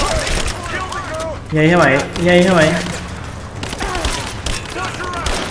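Gunfire from an upgraded weapon in the video game Rise of the Tomb Raider: loud bursts of shots and booms running through the clip, mixed with someone talking over the gameplay.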